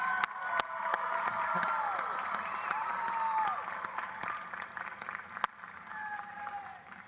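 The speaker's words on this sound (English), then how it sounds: "Let's give your families and friends a very loud round of applause." Families and friends applaud and cheer loudly at a University of Delaware commencement ceremony, sustained crowd clapping with scattered whoops and shouts, a few sharp claps standing out.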